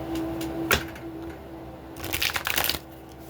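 A deck of tarot cards is shuffled by hand in a few brisk riffles and slides, close and crisp, with quieter handling between bursts and no talking.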